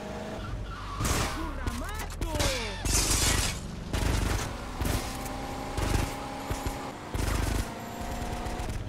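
Bursts of gunfire ring out in GTA: Vice City Stories amid skidding tires and car noise, with shots coming in short clusters between voices talking.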